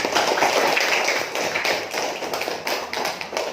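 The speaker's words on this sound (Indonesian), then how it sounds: "Aplaus dulu untuk kelompok ini." Classroom applause for a student group fills the whole span, dense steady clapping from many hands that tapers slightly near the end, with no speech over it.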